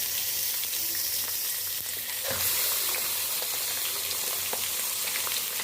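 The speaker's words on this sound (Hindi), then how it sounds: "प्याज ब्राउन हो गया, अब इसमें हम चिकन डालेंगे।" Chicken pieces added to browned onions in a hot pan for Lahori murgh cholay sizzle and hiss loudly and steadily, with occasional scraping and stirring clatter close by.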